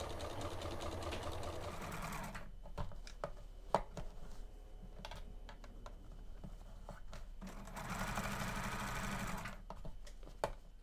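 A sewing machine stitches a seam allowance and lining around a curved neckline for understitching, running steadily at first, pausing briefly with scattered clicks, then resuming its close, even whir.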